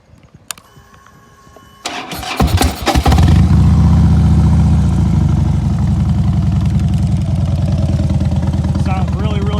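A 2010 Harley-Davidson Dyna Wide Glide motorcycle cranks briefly, fires up with a loud bark, then settles into a deep, steady, throbbing idle close by.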